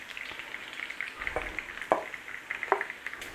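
Bacon frying in a pan, a soft crackling sizzle with scattered sharper pops and spits, fairly quiet and close, with no speech.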